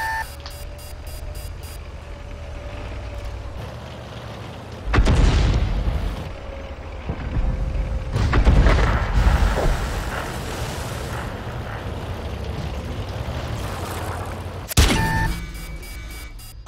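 Artillery shells exploding in a tank video game, an M4 battle: heavy booms around 5, 8–9 and 15 seconds, each with a rumbling tail, over constant engine rumble and occasional electronic beeps.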